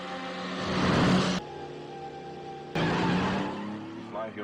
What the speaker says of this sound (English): Oh, driving really fast.